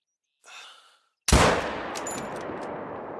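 A single loud rifle shot fired at an animal in theHunter: Call of the Wild, a sharp close crack followed by a long rolling echo across open terrain, preceded by a soft breathy sound.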